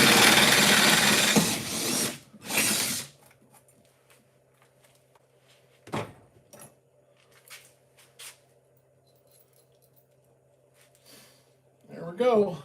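Cordless drills whir in short bursts while working on a cattle truck converted into a mobile bar, a loud run at the start followed by brief intermittent spins and quiet gaps.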